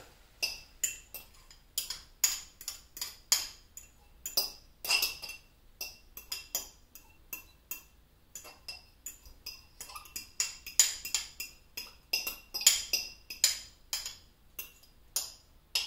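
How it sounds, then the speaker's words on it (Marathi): Eggs for a three-egg omelette are beaten briskly in a bowl, a steady run of quick metallic clinks and taps ticking along in an uneven rhythm, close and fairly quiet with no voices. "तर मी एंड मोमेंट पर्यंत विस्क करतोय त्याला"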